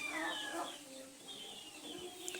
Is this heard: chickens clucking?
yes